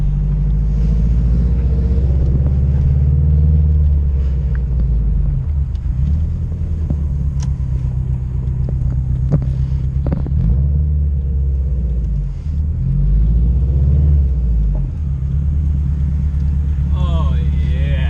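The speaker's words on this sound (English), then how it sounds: "You can hear the exhaust leak." Loud exhaust rumble from a 380 WHP Subaru WRX STI with an exhaust leak, a steady low drone with revving swells throughout, heard from inside during a night drive with voices talking over it.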